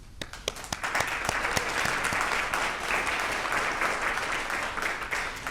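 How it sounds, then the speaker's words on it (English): Guests at a recognition dinner break into applause, starting with a few scattered sharp claps that swell into full, steady clapping across the room. "Please join me in another round of applause."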